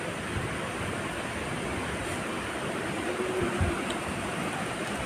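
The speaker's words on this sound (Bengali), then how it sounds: "দেখো কত জোরে বৃষ্টি হচ্ছে।" Heavy rain pours down in an even, continuous hiss that holds steady without breaks, fairly soft and diffuse.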